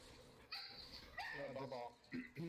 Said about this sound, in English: No, sorry, that's my dog,